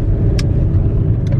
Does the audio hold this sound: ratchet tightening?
no